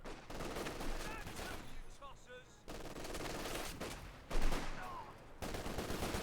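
Bursts of machine gun fire rattle across a Company of Heroes 2 battlefield between Wehrmacht and British forces, with repeated loud volleys separated by brief gaps and mixed with other combat noise.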